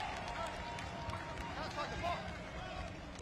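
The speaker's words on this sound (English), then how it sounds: "You hear their fans cheering him on." Soccer crowd of Como 1907 supporters cheering at a match, a steady broad roar of many voices throughout, with a commentator talking over it.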